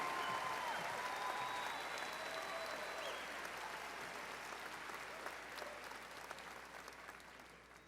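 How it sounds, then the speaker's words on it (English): A high school graduation audience applauds the honored graduates, a steady wash of many hands clapping in a large hall, fairly distant and quiet, slowly thinning toward the end. "Let's give them a round of applause for the years of studying and hard work"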